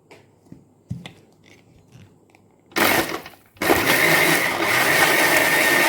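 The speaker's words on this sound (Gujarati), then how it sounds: "હવે આપણે ફાઇનલી હું ક્લોઝ કરીશ લેડ અને વિપ કરશું" An electric blender whips cold coffee with milk under a closed lid: a few quiet knocks and clicks, then a loud grinding whir that cuts out briefly and comes back as a steady, close roar.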